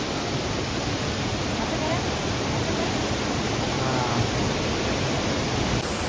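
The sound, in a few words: waterfall with strong water flow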